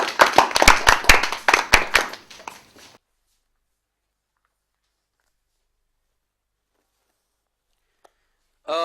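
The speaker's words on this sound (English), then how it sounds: "Please clap for yourself." Students in a grammar classroom clap for themselves, a short burst of quick loud claps that dies away after a few seconds into silence, then a brief noise at the very end.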